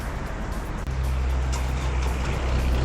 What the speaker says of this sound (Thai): เสียงแน่นๆนะครับ เสียงเครื่องนี่ยังแน่นอยู่เลยครับ